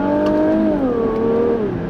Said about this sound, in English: The engine still makes all the right noises.